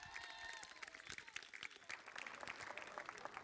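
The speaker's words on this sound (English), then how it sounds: "please give a huge round of applause for the driver racing for the United Arab Emirates, Leonidas Peruzzi." Audience applause for a race winner at a karting race day in Abu Dhabi, scattered claps with faint voices and cheering, fairly quiet and steady.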